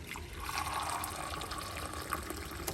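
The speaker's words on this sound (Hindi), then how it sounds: "फिर तो अब हम थोड़ा सा पानी डालते हैं।" Water pours into a pot of chicken curry as it cooks, a steady, fairly quiet trickling stream that runs for nearly three seconds.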